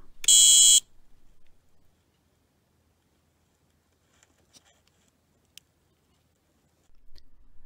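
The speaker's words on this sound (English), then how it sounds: "and the buzzer sounds an alarm" A short, loud electronic buzzer alarm on an MPU-6050 digital level sounds once at the start, followed by near silence with a few faint clicks.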